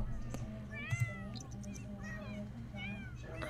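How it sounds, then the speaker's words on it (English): Several cats meowing from The Sims 4, a run of high, rising and falling game meows repeating through the clip over a steady low background hum, with a person talking quietly underneath. "All these cats meowing."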